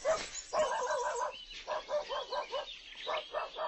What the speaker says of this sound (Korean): 등 뒤에서 개 짖는 소리가 들렸지만 돌아보지 않았다.